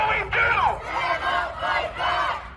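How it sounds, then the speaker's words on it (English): A crowd of Pittsburghers gathered at a Stop Asian Hate rally, many voices shouting and chanting together in loud, surging waves that rise and fall, with individual yells standing out near the front. "A crowd of Pittsburghers gathering for the Stop Asian Hate rally"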